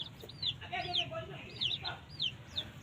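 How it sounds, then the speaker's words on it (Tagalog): Hen with her new chicks on a farm, with repeated high chick peeps and soft hen clucks close by against a steady background murmur. "Ayan ang mga bago kong sisiw."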